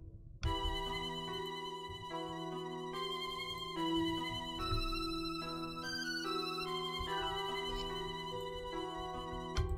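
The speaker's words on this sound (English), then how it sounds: "for this I felt like it needed a bit of a flute" A bright, breathy flute-like melody plays stepwise phrases over a steady drill beat with a deep low end, continuous throughout, without effects.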